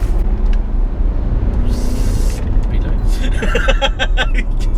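Bentley fitted with a tuning box accelerating in 4th gear on an open road, a deep steady engine rumble with road noise inside the cabin, and someone talking over it.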